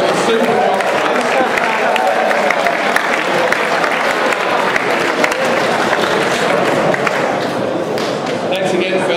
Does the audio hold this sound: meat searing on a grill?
no